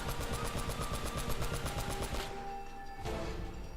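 A mounted turret gun firing in the action game Uncharted: Drake's Fortune, a fast, even rhythm of loud heavy shots for about two seconds, then it stops and leaves a ringing tail and impacts.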